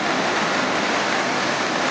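A loud, continuous roar of rushing water swollen by rain, broad and unbroken, like a strong torrent or waterfall close by.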